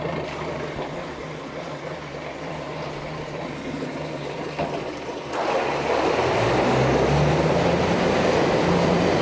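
A 2003 Mercury 40 hp four-stroke EFI Big Foot outboard motor runs steadily and pumps water, with a continuous engine drone and water rush that grows louder partway through. No one speaks.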